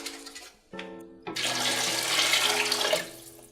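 Water pours into a pot for carrot soup in a steady, close stream after a brief clunk and a tonal scrape, running for a couple of seconds before easing off.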